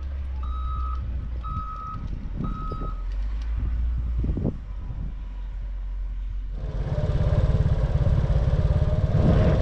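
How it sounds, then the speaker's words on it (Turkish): Construction machinery works in a marble quarry, with three clear reversing beeps over a low engine rumble, then a louder surge of engine and mechanical noise toward the end. "İş makinesi en alt bölgede çalışıyor."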